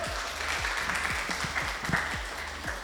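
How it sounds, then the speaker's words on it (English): Audience clapping to welcome a speaker at an evening talk: a dense, continuous round of applause with distinct individual claps close by, steady in loudness throughout. "let's have a round of applause to welcome him"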